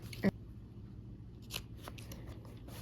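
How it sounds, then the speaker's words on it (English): Scissors snip once through the fabric corners of a quilt block, a single close, sharp cut followed by quiet rustling and a few faint clicks. "we're gonna go ahead and trim these corners off"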